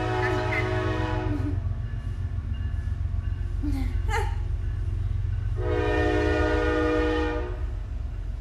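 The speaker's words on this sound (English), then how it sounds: "Sorry, I went by a train, you guys." A train rolls past close by with a rumbling, steady rail noise, sounding its horn in two long, loud blasts separated by a gap, while a voice speaks briefly in between.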